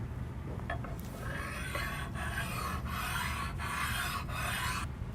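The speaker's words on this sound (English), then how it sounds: "I would make sure that I could stone it out with a bench stone" A bench stone rubs back and forth along a Rexroth linear rail to remove imperfections, giving five or so rhythmic rasping strokes, close and fairly quiet over a low background hum.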